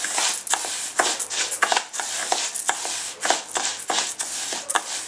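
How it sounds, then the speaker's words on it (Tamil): A spoon stirs lentils with ghee in a microwave-safe container, giving repeated scraping, clinking strokes in an uneven rhythm, close and fairly loud with no voices. "நெய் ஊற்றிட்டு இந்த பருப்பை நான் கொஞ்சம் கலந்துக்கிறேன்."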